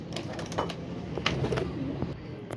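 Soft pigeon coos repeat against a steady background murmur, with a few faint rustles and clicks mixed in.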